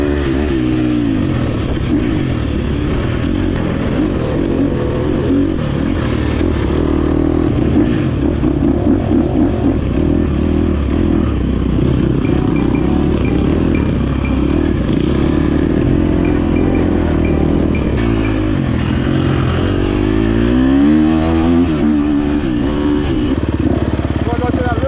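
A KTM dirt bike engine drones loud and near throughout a ride, holding a steady buzzing roar with rises in revs, while someone talks over it.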